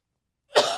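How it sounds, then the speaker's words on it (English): A single short cough bursts out after a moment of silence, close to the microphone and fading quickly, with no talking around it. "I'm just like coughing as you talk"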